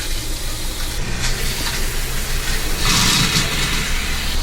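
Water rushes steadily from a camper van's freshwater system, run by its water pump, with a louder gushing surge near the end.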